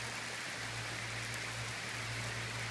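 Steady rain falls in sunshine in Tours, France, a dense even patter that holds unbroken and fairly close for the whole stretch with no voices over it.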